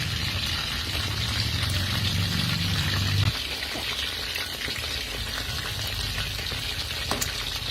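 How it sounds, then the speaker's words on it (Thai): Food deep frying in hot oil until crispy outside, a steady dense sizzle and crackle that runs the whole time, with a lower bubbling layer early on, close and without talk. "ทอดให้กรอบ นอก กรอบนอกนุ่มในนะคะ"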